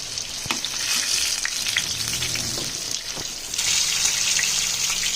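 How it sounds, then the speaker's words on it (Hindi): Fish for a Lahori fish fry crackles and sizzles steadily in hot oil, a close, continuous frying hiss with small pops and bubbling, growing slightly louder near the end. "तो यहाँ पर जो हमारी फ़िश है वो दोनों साइड से फ्राई हो गई है"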